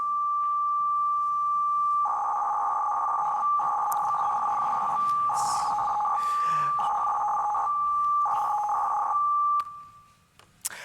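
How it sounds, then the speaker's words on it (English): FSK-modulated radio control signal for street lamps and power plants, a steady beeping carrier broken by repeated bursts of warbling, modem-like tones, loud and close, ending in faint noise. "it sounds a bit like a modem. In fact, it's an FSK modulation"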